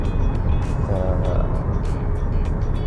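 A 15-year-old Toyota Camry XV40 rolling over a bumpy, wavy road: a steady low rumble of road noise from inside the cabin, broken by soft, repeated thumps as the suspension soaks up the bumps.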